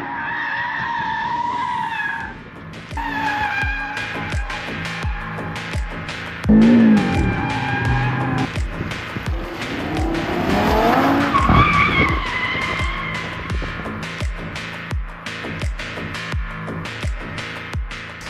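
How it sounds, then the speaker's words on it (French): 2022 Audi RS3 drifting on a small closed circuit in drift mode, tires squealing and skidding repeatedly as the engine revs and shifts, loud and sustained. "On va faire quelques sessions de drift entre guillemets."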